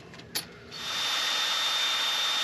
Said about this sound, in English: we're gonna have to drill out that bolt and get it with the easy out